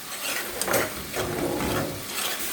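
Spice paste frying and being stirred in a pan in a home kitchen, a steady sizzle with scraping strokes of the spoon running through it, fairly close and alone with no voices.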